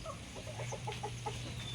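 Several chickens cluck softly in a quick, steady series of short notes over a constant low hum, fairly distant and quiet.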